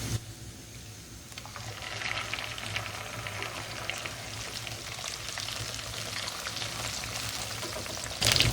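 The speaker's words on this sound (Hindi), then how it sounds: "अब हम इसमें टमाटर का पेस्ट डालेंगे।" Tomato paste poured into browned garlic-ginger paste sizzles and fries in a pan over high heat for a student-style biryani, a steady close hiss with light stirring throughout, rising slightly near the end.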